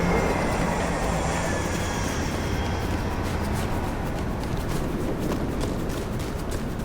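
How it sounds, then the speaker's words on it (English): Trains rumble past continuously in Vampire the Masquerade: Bloodlines 2, a dense, steady low roar of rolling wagons with faint high wheel squeal, loud and unbroken throughout. "Although it could be trains now I think about it."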